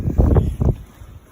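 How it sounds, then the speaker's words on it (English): Gusty wind buffets the microphone in low, rough bursts, two strong gusts followed by a quieter blustery tail. "Whew, it's windy."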